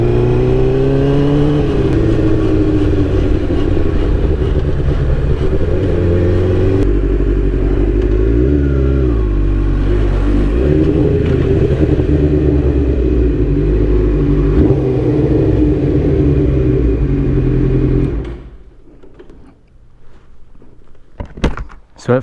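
A Suzuki GSXR750 sport bike engine revs hard up close, its high-pitched whine climbing and falling through repeated throttle blips for about eighteen seconds before cutting off into near silence, with a few faint knocks at the end.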